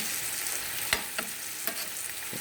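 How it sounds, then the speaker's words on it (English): Steak frying in a pan with portobello mushrooms and bacon, giving a steady close hiss and sizzle with a few sharp clicks of a utensil stirring against the pan. "And I tossed it in here with some yummy portobello mushrooms I'm frying up."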